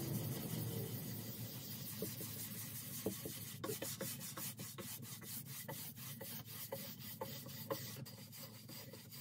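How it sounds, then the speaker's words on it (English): A brush buffs wax into a wooden drawer of a damaged Jacobean buffet finished in milk paint, giving a steady close scrubbing rasp with rhythmic strokes that sharpen in the second half. "buffing it in with a brush"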